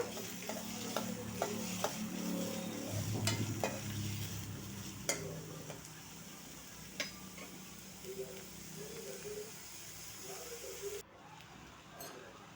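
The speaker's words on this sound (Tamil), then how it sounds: "இப்போ வெட்டி வச்சு பெரிய வெங்காயத்தெல்லாம் போட்டுடலாம் இது நல்லா வதக்குங்க" Chopped onions sauté in a pan with a soft, low sizzle and occasional scraping stirs, fairly quiet beneath a voice talking.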